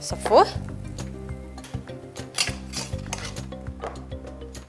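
A quiche filling of cream, egg, fried onion, parsley, mushrooms and chicken is stirred in a pan. Repeated scraping and clinking of the utensil come through under a soft sizzle, while a person talks over it.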